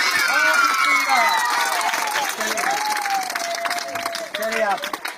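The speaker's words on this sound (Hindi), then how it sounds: "एक बार जोरदार ताली बजाइए, जोरदार।" A large audience claps and cheers together, a dense sustained wash of applause that holds loud throughout, with a tonal voice-like line running underneath.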